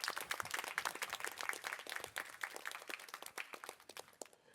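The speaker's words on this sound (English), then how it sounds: "I would like to invite the other faculty members to applaud the audience." Faculty members applauding an audience at a lecture, a fairly faint but continuous patter of clapping from a modest group, steady throughout and stopping abruptly at the end.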